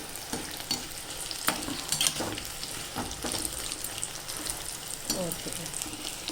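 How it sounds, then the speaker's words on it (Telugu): Brinjals frying on a high flame, a steady sizzle with repeated scraping stirs of a spatula in the pan, close by. "రెండు బ్రౌనిష్ కలర్ వచ్చేసాయండి వంకాయలు హై ఫ్లేమ్లోనే వేపుకుంటే బాగా వేగుతాయండి"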